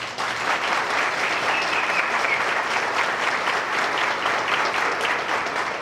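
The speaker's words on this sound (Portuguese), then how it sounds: "eu peço para os dois aí uma salva de palmas" Sustained applause from wedding guests honouring the bride's parents, a dense steady clapping that stays loud and even throughout without talk.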